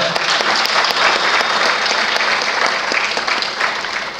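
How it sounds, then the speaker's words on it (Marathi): An audience at a talk giving a speaker loud, sustained applause, dense clapping that fills the room steadily throughout before easing slightly at the end. "सरांसाठी पुनश्च एकदा जोरदार टाळ्या"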